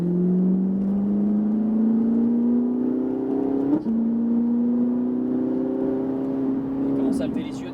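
Ferrari 458 Italia engine on a race circuit, a steady loud drone whose pitch climbs as it brakes, with a sharp blip at a downshift midway before the tone resumes climbing, and a faint rev flare near the end.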